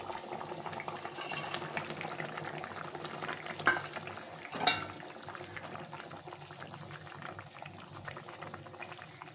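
A pot of fish curry with potato and pointed gourd simmering steadily with a soft bubbling hiss, broken by a couple of clatters as pieces of fish go into the pot.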